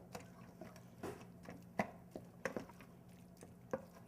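Dirty rice jambalaya being stirred in a pot, with a few soft, irregular scrapes and wet squishes of the spoon over a quiet kitchen background.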